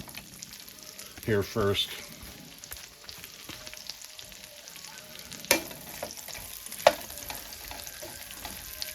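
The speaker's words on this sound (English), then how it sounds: "I'm going to saute some onions" Onions sauté in a pan on the stove with a soft, steady sizzle, broken by a few utensil clatters and stirs, while a person speaks briefly nearby.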